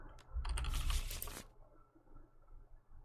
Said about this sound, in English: Let's give that a good shuffle